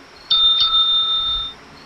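A doorbell-style notification chime rings once, a clear bright tone that sustains and fades over about a second, standing alone without any talk.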